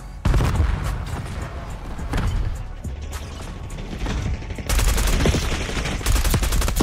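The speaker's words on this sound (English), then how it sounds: "I'm over here shooting at my teammates" Call of Duty Black Ops 6 gunfire crackles in dense automatic bursts, loud and close, with short pauses and a heavier burst near the end.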